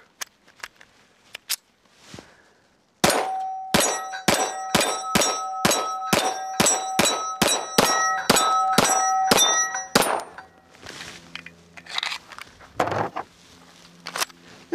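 A Remington 1911 R1 Tomasie Custom double-stack pistol fires a fast, even string of about a dozen loud shots, each with a bright metallic ring, followed by scattered later shots and clanks.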